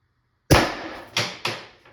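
A 2024 LL4D MCS 468 CO2 airgun fires a red kinetics pellet through a long barrel: one sharp, loud crack followed by two quicker, slightly softer bangs, each with a short decaying tail and no voices.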